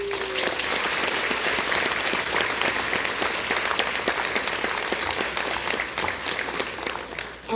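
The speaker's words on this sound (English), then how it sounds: "I'm gonna have you give each one of them a round of applause on their own" A school audience gives a student winner a round of applause at a concert. Dense, loud clapping from many hands fills the room, sustained and even from start to finish.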